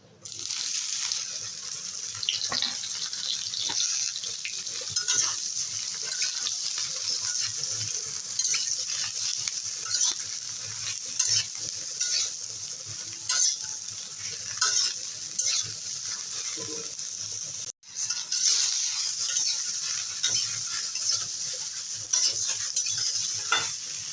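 Ridge gourd is added to hot oil in a pan and stirred. It fries with a loud, steady sizzle and scraping stirs throughout, with a brief break near the end.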